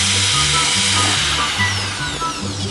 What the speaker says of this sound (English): Can't just start drilling shit right now